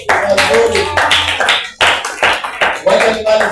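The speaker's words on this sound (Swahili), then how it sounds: "Pigia Yesu makofi mazuri" A church congregation claps along during a sermon, the sharp hand claps mixing with voices and a busy, reverberant room sound throughout.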